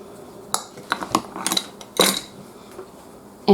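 Basil, lemon balm and mint roughly chopped with a knife on a board, uneven close taps and clicks in small clusters with a louder knock at the end.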